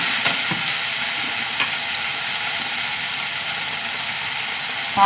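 Masala with tomato and tamarind frying in a pan gives a dense, even sizzle throughout, with a few faint stirring clicks and a brief louder knock at the very end.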